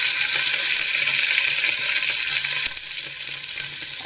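Cumin seeds and green chilies frying in hot oil in a pan for a moong dal sambar, giving a steady, close, continuous sizzle that eases slightly partway through, with no voices.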